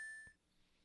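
A short electronic beep from the Ace Attorney: Trials and Tribulations game, a single clean tone lasting about a quarter second, fairly loud and alone.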